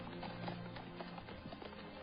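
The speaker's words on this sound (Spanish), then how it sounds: "Monta su caballo y comienza a galopar por el campamento francés." A horse galloping, a quick repeated clip-clop of hooves in a steady rhythm, faint and muffled under a dull background hiss, with no voices.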